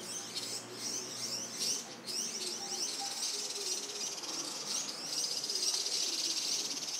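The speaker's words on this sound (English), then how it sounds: "This is the call David uses to attract mixed flocks" A mixed flock of birds calls in Bhutanese forest, with many high, thin chirps and twitters overlapping steadily throughout at moderate distance, faint and unbroken, with no talking.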